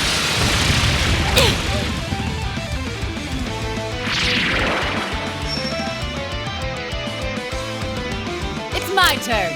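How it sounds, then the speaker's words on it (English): Cannon fire from a Grummer mech during a battle in the Trails of Cold Steel IV video game. Heavy booming blasts and crashes sit over game music, with sweeping bursts around the start and middle and another hit at the end. "Grummer cannon, fire!"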